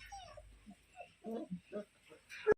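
A Canary Mastiff puppy with freshly cropped, still-bloody ears whimpers in a series of short, soft whines and yips close by, ending with a sharper cry.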